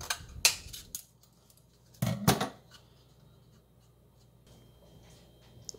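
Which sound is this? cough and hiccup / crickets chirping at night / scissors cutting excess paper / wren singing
scissors cutting excess paper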